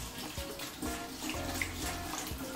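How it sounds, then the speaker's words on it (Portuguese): Tap water runs steadily to rinse a pan cleaned with a homemade Coca-Cola shine paste, a continuous close splashing flow with no talking. "deixa eu passar uma água aqui"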